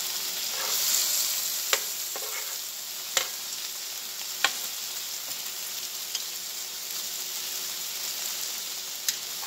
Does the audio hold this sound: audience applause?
no